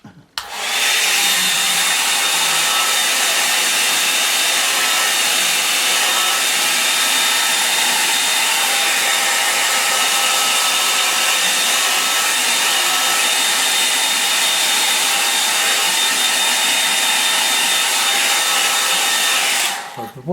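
A hair dryer blows steadily on wet watercolour paint, a loud, continuous airy whir that runs unbroken for about twenty seconds with no voices.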